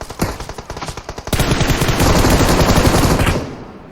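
Automatic gunfire in PUBG Mobile, a fast rhythmic burst of close shots that builds into a loud, continuous roar of overlapping fire, then tapers off near the end.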